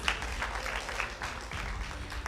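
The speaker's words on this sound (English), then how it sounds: "A round of applause for the winning teams" Applause for the winning teams at a high school debate grand finale, a moderate, somewhat distant crowd clapping in an uneven patter that dips briefly midway and then picks up again.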